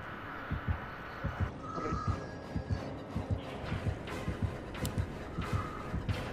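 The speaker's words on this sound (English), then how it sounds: "I hear the heartbeat." A heartbeat from the video game Dead by Daylight pulses in a steady double-thump rhythm, low and throbbing, about two beats per second. Faint in-game ambience and tonal effects sit behind it, and no one speaks.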